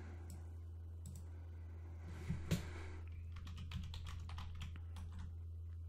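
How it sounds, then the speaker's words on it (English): Close, quiet clicks of a computer keyboard as a password is typed during a VirtualBox setup, in short bursts of keystrokes with a louder key press midway and a low steady hum underneath. "As soon as I type my password correctly."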